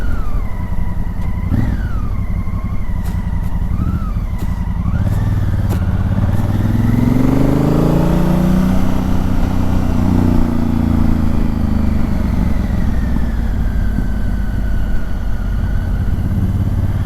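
A motorcycle is ridden along a road, its engine droning steadily close by with rising and falling revs as it accelerates and shifts, over constant wind rush.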